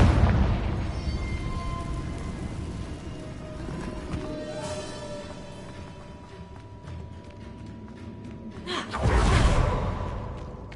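A Confringo explosion spell in Hogwarts Legacy, with a fiery blast at the start, a fading rumbling tail, then a second loud burst near the end.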